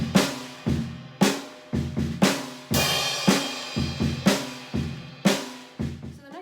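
A drum kit plays a steady rock pattern with punchy bass drum and sharp snare hits, while a crash cymbal washes in on alternate measures, close and loud with no talking.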